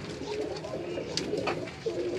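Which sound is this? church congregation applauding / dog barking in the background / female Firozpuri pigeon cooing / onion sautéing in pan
female Firozpuri pigeon cooing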